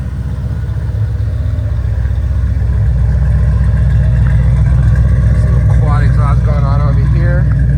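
An LS V8-swapped BMW E30 track car idles while it warms up, giving a loud, steady, close low rumble with even pulsing throughout. Someone speaks briefly over it near the end.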